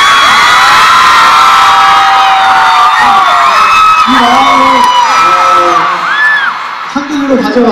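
A concert crowd at an SM Town-style K-pop show in Mexico cheers, whoops and shouts loudly and continuously, a dense roar of many voices with high screams rising over it throughout.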